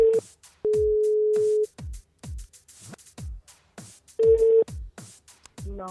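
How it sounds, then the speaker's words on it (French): A telephone rings at a live radio broadcast from a brasserie, with a few steady electronic ring tones among a busy string of sharp clicks and knocks, loud and close. "le téléphone il sonne"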